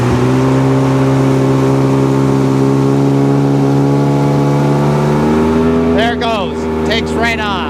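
A Sea-Doo GTX DI jet ski with an exhaust valve issue accelerates on the water, its engine whine climbing steadily in pitch and staying loud and close, with a voice talking over the end.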